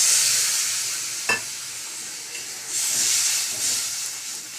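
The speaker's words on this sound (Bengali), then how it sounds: "জল দিয়ে দিই এটা।" Water hits a hot pan of cooking vegetables, setting off a bright hissing sizzle and steam that fades a little, then swells again near the end. A single brief knock sounds early on, and no one speaks.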